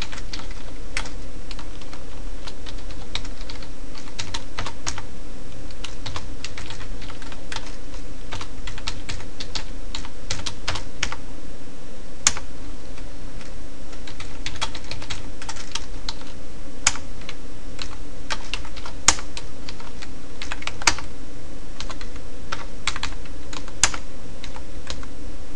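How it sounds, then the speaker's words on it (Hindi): Someone typing code on a computer keyboard, with dense, steady key clicks and occasional louder keystrokes, heard close and continuous for a long stretch with no talking. "यहाँ पे मैं टाइप करना शुरू करता हूँ अपना कोड।"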